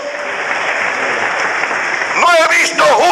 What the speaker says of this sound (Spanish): puede darle un aplauso al Rey de la Gloria